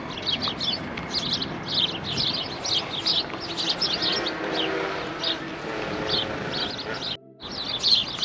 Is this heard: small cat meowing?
no